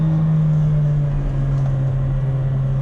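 Steady low engine drone of a 2019 Mercedes A35 with its 2-litre engine while driving, heard from inside the cabin at a constant, fairly loud level.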